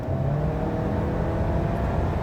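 A VW Multivan at full throttle in sport mode on a motorway, pulling from 100 km/h, heard from inside as a loud steady engine drone with rising hum and road roar.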